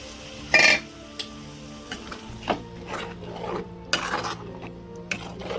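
Ground tomato goes into a pan of rajma curry and is stirred in, giving scraping and stirring sounds with a few sharper clinks of utensil against the pan, plus soft sizzling, in a village-style kitchen.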